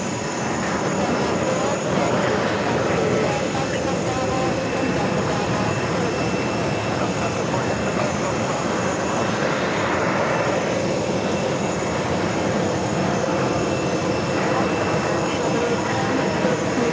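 Steady, loud roar of a JetBlue airliner in new livery touching down at JFK airport, continuous engine and rollout noise filling the whole stretch without letup.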